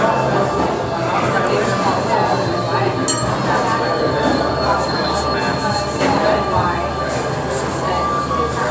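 A southbound Sounder commuter train making a station stop, heard as a continuous loud rumble with metallic clinks and faint wheel squeal, steady throughout with a sharp clank near the middle.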